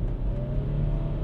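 An Audi A6 Allroad Quattro with 112,000 km accelerates at full throttle in D mode, its engine drone steady and rising from inside the cabin, with no talk over it.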